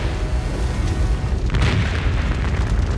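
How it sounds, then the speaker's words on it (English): A massive blast from a fire spreading near a garage, a deep continuous low rumble that swells around the midpoint with a burst of broadband roar, loud and sustained without voices. "The initial explosion is heard more than 200 miles away"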